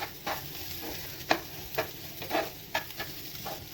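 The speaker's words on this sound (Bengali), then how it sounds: "একটু ভালো করে যেমন আমরা পোলাওয়ের চাল ভেজে নিই, সেরকম আমি ভেজে নিচ্ছি।" Shyama (grass) rice dry-frying in a pan, stirred with quick scraping strokes that recur every half second or so over a soft, steady sizzle, close up with no talking.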